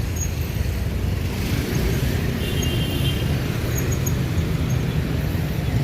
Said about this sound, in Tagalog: So kung makikita nyo naman napakaraming sasakyan ngayon.